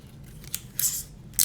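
Tape is torn in short, crisp rips and pressed onto a model rocket fin, heard as two or three quick, close crackles against a quiet room background, with no talk.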